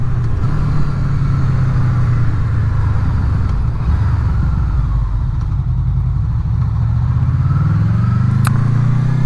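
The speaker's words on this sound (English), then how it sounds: "up for a quick ride on the bike this evening." A Honda VFR800 motorcycle on an evening ride gives a loud, steady engine drone and rumble with constant road and wind roar, and the pitch shifts slightly near the end.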